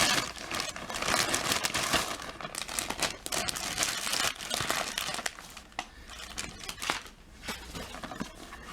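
Amazon package being cut open with a knife, with busy close crinkling and tearing of packaging material, dense and continuous over several seconds.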